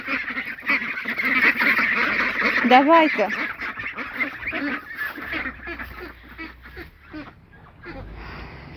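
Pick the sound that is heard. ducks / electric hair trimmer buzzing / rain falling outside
ducks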